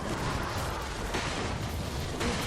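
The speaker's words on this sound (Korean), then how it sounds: "포탑 파괴했습니다." A turret being destroyed in League of Legends, a loud continuous rumbling blast with crackling debris that fills the whole moment without a break.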